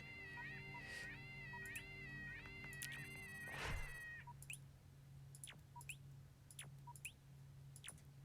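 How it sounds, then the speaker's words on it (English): An unhappy cat in the Starbound video game lets out a series of short, high, complaining meows, repeated in a quick rhythm over a quiet hum, with one harsher burst in the middle. "Sorry, kitty. Oh my gosh, that cat is not happy."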